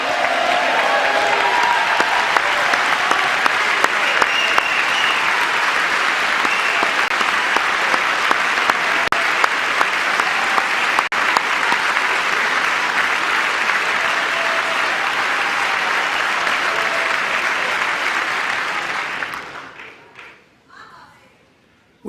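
Sustained audience applause for a presidential speech fills the room loudly and steadily for about eighteen seconds, a dense wash of clapping with scattered cheers, then fades out quickly near the end.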